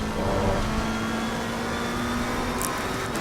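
Race cars in Assetto Corsa Competizione on PS4 at Imola, engines droning steadily at high revs side by side down a straight, a close, continuous whirring roar.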